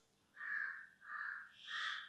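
Crows cawing outdoors, three drawn-out harsh calls in a steady sequence, moderately distant and faint against a quiet background.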